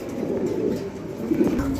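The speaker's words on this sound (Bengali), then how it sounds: "এখানে একজোড়া মুখী কবুতর আছে" A pair of fancy Mukhi pigeons, both males, coo softly in low, throaty rolling murmurs, close by and continuous without talk.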